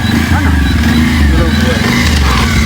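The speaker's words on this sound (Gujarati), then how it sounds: "આ જો એમની બાઇક આવી જ છે" A motorcycle arrives close by with a loud, steady engine drone and a throbbing low rumble that holds evenly through the whole short moment.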